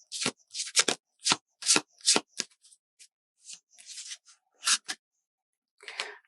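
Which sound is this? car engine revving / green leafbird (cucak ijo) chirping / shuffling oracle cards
shuffling oracle cards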